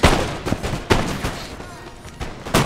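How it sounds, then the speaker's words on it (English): Musket volleys fired by guard seamen in a Napoleon: Total War battle, several sharp loud cracks spaced irregularly over a crackling battlefield din, with a voice talking over them. "Guard seamen are deadly accurate, and they can reload very quickly and put a lot of fire under your men."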